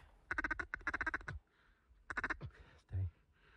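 A hen duck gives two rapid series of loud quacks during a duck hunt, with a short pause between them and a soft thump afterward.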